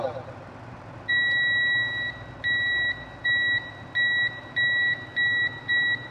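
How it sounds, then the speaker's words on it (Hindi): A multimeter in continuity beep mode sounds while probing the VBUS line of a Samsung Galaxy Z Fold 5 5G with a charging fault: six clear, high electronic beeps of uneven length in a steady run over a low background hum. "बीप मोड में बीप बज रहा है कि नहीं बज रहा"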